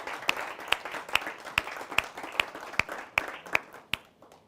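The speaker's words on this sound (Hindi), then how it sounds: "आइए एक बार जोरदार तालियों के साथ स्वागत करते हैं" An audience at a Hindi comedy poetry gathering (hasya kavi sammelan) claps to welcome a poet to the stage: dense, steady applause with sharp claps standing out at a regular beat, fading slightly toward the end.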